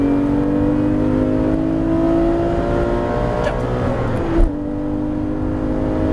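A Porsche GT3 RS engine drones at high revs from inside the cabin on the Issoire race circuit, its pitch holding steady before a sharp gear change; a voice speaks briefly.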